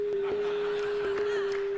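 A continuous pure electronic tone from a head-mounted color-sensing eye, representing yellow, holding one steady pitch throughout over a faint hiss of background noise.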